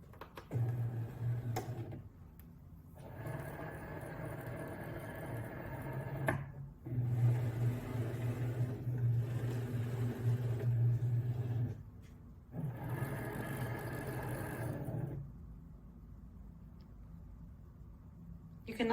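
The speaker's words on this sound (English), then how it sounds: "load my iron-on vinyl shiny side down onto my mat and insert my mat into my" A Cricut cutting machine works through iron-on vinyl on its mat, giving a close mechanical whir and buzz in several long passes with short quiet gaps between them.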